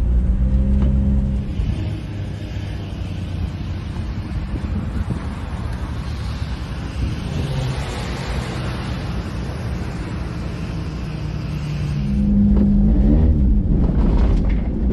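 A cheap $500 car races on an ice and snow track among about twenty other cars, its engine droning steadily under heavy wind buffeting, with a louder, rougher surge near the end.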